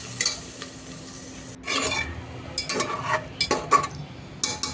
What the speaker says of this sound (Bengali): এখন চুলায় আমি রাইস কুকার বসায় প্রথমে একটু পেঁয়াজ ভেজে নিচ্ছি।